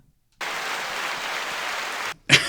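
A canned applause sound effect from Nintendo Switch Online plays as a steady burst of clapping for about two seconds. It cuts off abruptly and is followed by a brief louder blip.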